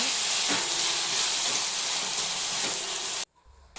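Chicken sautéing in a pan for chicken gravy gives a loud, steady sizzle and hiss that runs continuously, then cuts off abruptly near the end.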